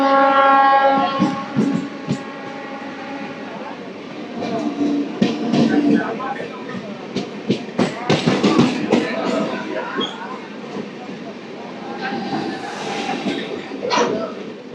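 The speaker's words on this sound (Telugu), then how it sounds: "ఎదురుగుండా లోకల్ ట్రైన్ MMTS అయితే వస్తుంది" An MMTS local train rumbles past on the opposite track near Kacheguda, heard from a moving express with a drawn-out horn blast and steady rail clatter, while someone talks throughout.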